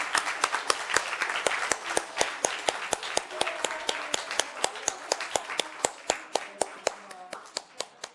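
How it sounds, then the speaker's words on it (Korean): A church congregation gives a thanksgiving service round of applause for retiring elders, deacons and deaconesses. Steady, loud rhythmic clapping in a large hall gradually thins to a few sharp, separate claps. "다시 한번 뜨거운 감사의 박수를 드리도록 하겠습니다"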